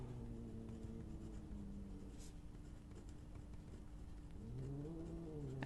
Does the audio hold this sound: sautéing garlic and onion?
no